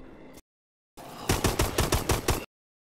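Gunfire in the Advanced Warfare Exo Zombies video game, a short rapid burst of automatic shots in steady rhythm after a brief earlier sound and a pause, fairly loud with no talk.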